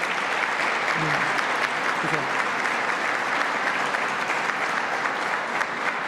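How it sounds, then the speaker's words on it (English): Steady applause from a seated audience at a Western New York economic development event, honoring the mayor and town supervisors as they stand, with brief voices faintly underneath. "Let's have them stand up and receive a round of applause."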